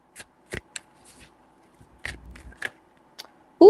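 Several short bursts of tarot cards being shuffled, crisp riffling snaps spread across a quiet room, ending in a louder close rustle.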